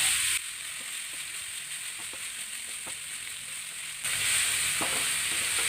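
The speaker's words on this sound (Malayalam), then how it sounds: "നമുക്കതിനകത്തോട്ട് ഈ ചതച്ച് വെച്ച ഈ അരപ്പ് നമുക്ക് ഞാനോട് ചേർക്കാം. നമുക്കൊന്ന് ഇളക്കാം." Chopped banana flower fries in a pan with crushed paste, a steady soft sizzle with a few clinks and scrapes of stirring, growing louder and brighter near the end.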